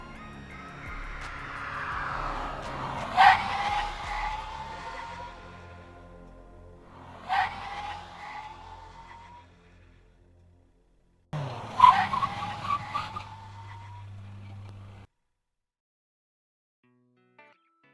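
A Volkswagen braking hard from 110 km/h on a dry road skids with long tyre squeals over engine roar, repeated in separate runs with quiet gaps between, fairly loud and close.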